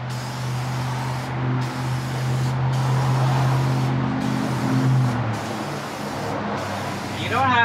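Aerosol can spraying grey primer onto a Redcat RS10 Jeep RC body, a steady hissing spray running continuously and fairly close, with a brief rattle-like sweep near the end.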